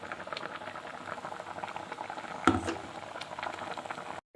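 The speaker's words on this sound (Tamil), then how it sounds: "இந்த எறா முருங்கைக்காவோடு சேர்த்து நாம் இதை வந்து இந்த பேஸ்ட்டை வந்து ஊற்றிக்க போகிறோம்" Ground masala paste poured into a simmering prawn and drumstick curry gives a steady bubbling, gurgling liquid sound with one soft thud partway through, close and fairly quiet.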